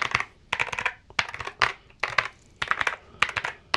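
Bursts of clicky typing on an Akko 5075B mechanical keyboard, loud and close, coming in quick rhythmic clusters with short pauses between them.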